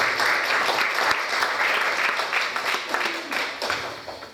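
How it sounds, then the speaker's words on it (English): A church congregation claps during a sermon, producing a dense, steady wash of applause that holds for several seconds before tapering slightly. "Shall we clap our hands?"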